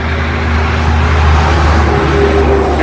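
A loud truck rumbles past on a nearby road, a steady heavy engine drone holding at full volume throughout with no voices.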